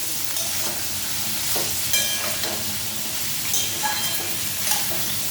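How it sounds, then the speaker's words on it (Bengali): Cumin seeds sizzle in hot oil, a constant close bright crackle with small pops and occasional stirring scrapes, no voices. "তেলটা গরম ছিল, জিরা ফোড়নটা দিয়ে দিয়েছি।"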